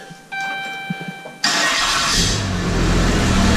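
A 6.7 Cummins diesel drag race truck engine cranks and catches, settling into a loud, steady rumbling idle after a few seconds of faint ticking.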